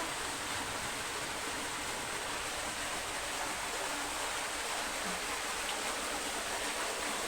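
A waterfall in San Sebastian pours in a continuous, even hiss of rushing water, a steady broadband wash with no breaks and no voices.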